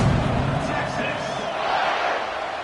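A stadium crowd in a college football video game roars and cheers loudly and continuously, a dense wash of voices that holds steady throughout.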